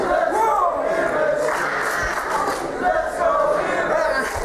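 Wrestling crowd at a live show roaring and chanting steadily while two wrestlers lie down during the referee's ten count, loud and dense throughout with surging cheers.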